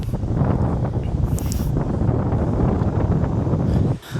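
A strong electric fan blows steadily at a high setting, giving a loud continuous rush of air buffeting close to the microphone, with a brief dip near the end.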